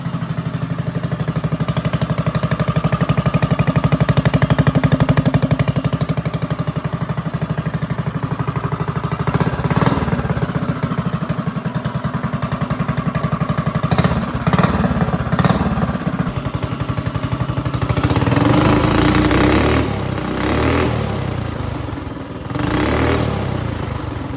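A mini bike's small engine, fitted with a torque converter, runs close by. It putters steadily and then climbs into several sharp revs before settling again, with no voices.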